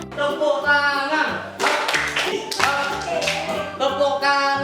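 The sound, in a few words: children clapping hands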